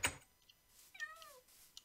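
A cat in the video game Minecraft gives one soft, brief meow after a faint click, quiet and alone against near silence.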